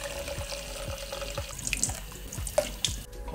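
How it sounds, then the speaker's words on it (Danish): Tap water runs into a pot of oatmeal in a home kitchen, a steady close splashing stream with light rhythmic sloshing and a few drips, no talking. "Der tilsættes lidt vand."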